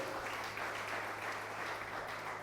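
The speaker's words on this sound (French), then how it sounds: "Est-ce qu'on peut acclamer le Seigneur?" A church congregation applauds in praise, a steady, even wash of many clapping hands filling the room at moderate loudness with no pauses.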